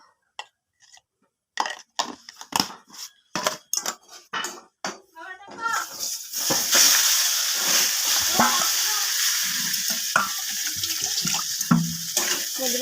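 Water poured into a pan of cooking food with salt and turmeric, a steady hissing splash that follows a series of sharp knocks and clatters, close and fairly loud.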